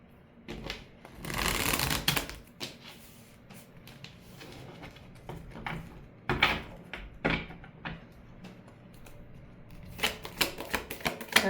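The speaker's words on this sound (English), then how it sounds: "Let me shuffle." A deck of cards is shuffled by hand in several bursts, crisp riffling and ruffling up close separated by short pauses and handling noises.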